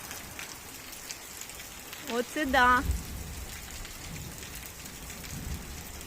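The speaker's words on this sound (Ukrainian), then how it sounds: "Ну, тепер дощик поліє і помиє." Steady evening rain falls on an outdoor yard with a constant hiss of drops. A person speaks briefly in the middle.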